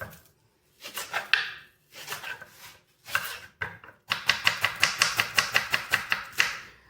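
A kitchen knife chops ingredients for fish biryani on a board, with short bursts of cuts followed by a steady run of about ten even, close, crisp strokes.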